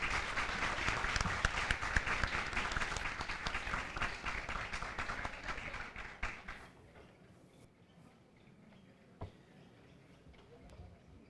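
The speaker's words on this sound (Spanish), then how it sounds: "Un cerrado aplauso para las entidades educativas participantes." An audience applauds participating schools at an educational event, dense sustained clapping that gradually thins and fades to a few scattered claps and near quiet over about eleven seconds.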